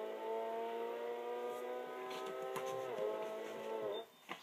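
A Toyota Supra in Gran Turismo 5 powers out of a corner on the Tokyo circuit during a time trial. Its engine note climbs steadily in a smooth, sustained rev, then drops sharply as the throttle lifts near the end.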